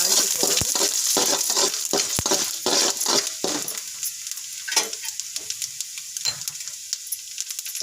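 Dried red chillies fry in hot tempering oil for a potato brinjal curry, giving a loud, dense crackling sizzle with bursts of popping that ease into quieter, scattered spitting near the end, with no talk.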